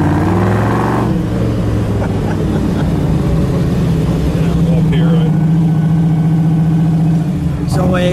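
A 1962 Chevrolet Bel Air bubble top with its 409 V8 engine runs loud and close, a steady low harmonic rumble with a rise in revs partway through, while people talk over it.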